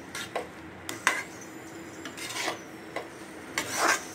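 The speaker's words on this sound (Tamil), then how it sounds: "இப்போ நம்ம இந்த வறுத்து வச்ச சேனைக்கிழங்க அப்படியே ஆட் பண்ணிக்கலாம். ஆட் பண்ணிவிட்டு நல்லா கலந்து விடுங்க" A spatula scrapes and rubs through fried elephant foot yam coated in masala in a pan, a few separate strokes at close range, the last one longer, with no talk.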